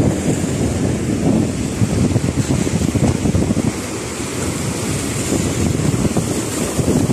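Strong sea waves surge and crash continuously close by, layered with heavy wind buffeting the microphone in a dense, unbroken roar with no voices.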